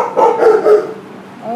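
A pet dog at home lets out a few close, sharp barks in a quick cluster, with short gaps between the bursts and no talk over them.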